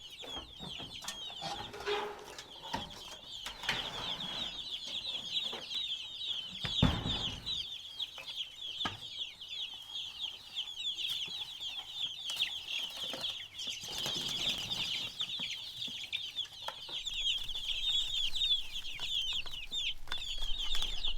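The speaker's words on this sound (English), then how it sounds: "These chicks go absolutely crazy over fly larvae." Young chicks on a farm peeping and clucking steadily, a dense chorus of high chirps with occasional wing flaps and soft thumps, close and continuous with no talk.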